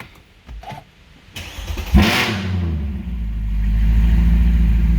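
A Mercedes C63 engine cranks briefly, catches with a sharp burst, then settles into a steady rumbling idle that grows slightly louder, running with no exhaust fitted.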